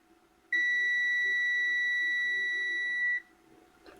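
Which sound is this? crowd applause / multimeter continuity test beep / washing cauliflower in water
multimeter continuity test beep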